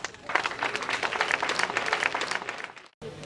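A festival crowd applauds a band at an outdoor cultural event in Calavi, Benin: dense, sustained clapping for about three seconds that fades and cuts off, then a brief return of crowd noise.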